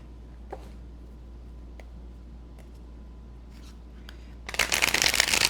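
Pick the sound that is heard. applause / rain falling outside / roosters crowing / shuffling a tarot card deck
shuffling a tarot card deck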